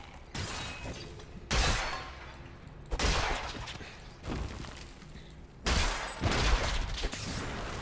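Crackling firework bursts in Diablo III go off in loud repeated waves, each sharp blast trailing into a sizzling, popping spray, several volleys close together.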